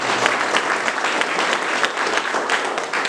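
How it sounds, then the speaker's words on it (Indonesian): A crowd claps at a vocational school certification ceremony, brisk, steady applause from many hands, close and fairly loud, with no one speaking over it. "Tepuk tangan"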